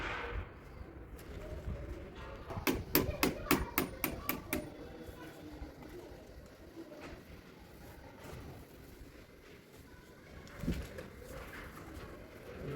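Pigeons coo near a brick ledge, soft repeated calls over a steady background, joined midway by a quick run of sharp rhythmic knocks like hammering and a few scattered thuds later.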